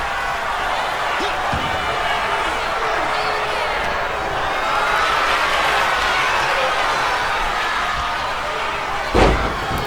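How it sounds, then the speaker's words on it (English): A wrestler is lifted and slammed to the mat during a pro wrestling match, a loud thud near the end over steady crowd noise and a commentator talking throughout. "Graves now lifting up and slamming down Kane"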